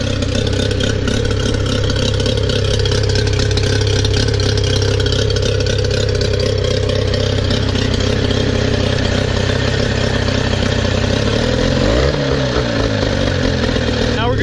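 A boat's inboard engine running in gear during winterizing, with a steady loud mechanical drone and rumble throughout and a brief shift in pitch near the end, close to the listener.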